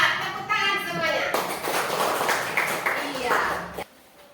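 Children in an Islamic religious-education classroom clap together in a short burst of applause, with a teacher's voice and some chatter mixed in, before the clapping stops abruptly.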